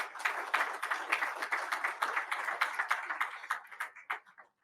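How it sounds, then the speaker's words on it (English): Audience round of applause for sponsors at a formal Army association coffee-series event, scattered distinct hand claps from a modest crowd, fairly close, thinning and tapering to a few last claps. "Let's give them a big round of applause."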